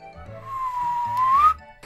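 A person whistles one sustained, gliding note close by, dipping slightly and rising at the end, over low game music.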